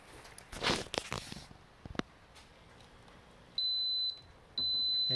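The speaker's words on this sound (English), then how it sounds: "It just faults to an alarm like that." A PowerJack 20 kW inverter with a fault sounds its alarm: two sustained high electronic beeps, each about half a second or longer, preceded by handling clatter and footsteps nearby.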